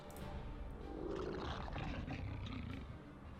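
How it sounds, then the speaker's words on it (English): A wolf in the Shadowgate video game lets out a low, throaty growling roar that swells and fades over a few seconds, fairly faint and alone. "The wolf growls a throaty warning that stops you in your tracks"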